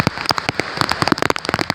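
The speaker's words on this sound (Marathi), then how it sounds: "आणि आता पाऊस आला आहे." Monsoon rain falling on an outdoor fort trek in Maharashtra, dense irregular patter of close raindrops striking a surface, loud and crackly with no talk.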